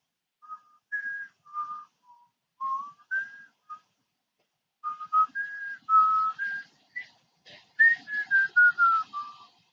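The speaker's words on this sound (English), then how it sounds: "I won't whistle and annoy you anymore" A person whistles a melody alone, short clear notes in phrases with brief pauses, close and fairly loud.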